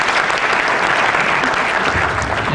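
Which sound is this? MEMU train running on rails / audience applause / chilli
audience applause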